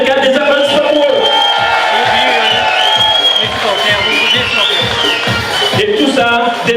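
Football supporters at a CS Moulien versus Siroco match cheer and whoop in a loud, sustained roar, with clapping and an announcer's voice carried over the crowd noise throughout.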